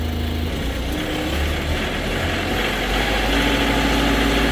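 Engine of a Marini MRP 350 remote control piling rig running after startup, a loud steady low diesel rumble with a constant drone that holds through the clip and rises slightly near the end.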